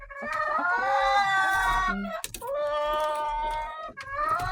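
Several hens in a henhouse on a rainy day cluck and squawk loudly and close by, their cries overlapping in noisy bursts with brief pauses between.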